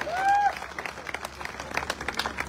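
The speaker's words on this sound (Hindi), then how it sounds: "अरे ताली बजा दो, बहुत मेहनत करके बनाया है।" Audience applause in a talk about a product, heard as a scattered burst of clapping after a short whistle-like tone at the start, moderately loud with some crowd noise.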